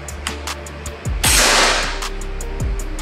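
A single sharp shot from a Gousuto Oria V2 air rifle, a loud broadband crack with a brief hissing tail, set among softer repeated clicks and low thumps.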